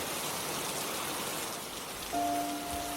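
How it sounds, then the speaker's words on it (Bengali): Heavy pouring rain in a Bengali horror cartoon, a steady dense hiss of downpour drumming on surfaces, with a faint thin tone entering near the end. "বাইরে তখন মুসুলধারে বৃষ্টি লাগল"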